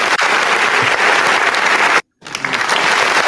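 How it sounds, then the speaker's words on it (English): Applause button sound effect: a loud, steady burst of canned clapping and cheering that cuts out briefly near the two-second mark, then resumes at full strength before stopping. "Y'all know I like that applause button, though."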